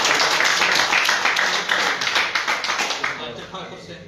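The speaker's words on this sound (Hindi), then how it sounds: "तालियां मार के स्वागत।" A crowd claps in welcome for a village panch at a political gathering in Trikuta, a busy burst of hand claps that thins into scattered, rhythmic claps before fading out.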